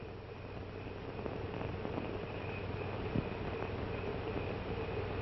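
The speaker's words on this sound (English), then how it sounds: "you can hear the train all the way to Kentucky" A distant train rumbles on a moonlit night in a small-town setting, a low steady drone with faint clatter lasting throughout, no voices.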